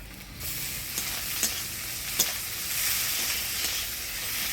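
Chopped tomato hitting a pan of lightly fried onion for a Bengali bhola fish curry, a continuous close sizzle broken by a few sharp spatula clicks and stirring, no voices.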